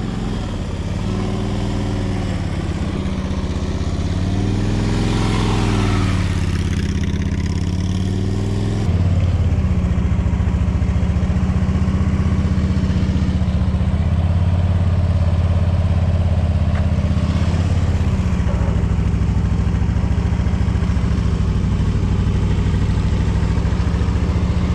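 A motorcycle engine runs steadily and loud during slow U-turn practice, with the throttle rising and easing in gentle swells over a continuous low rumble, close by and without talk.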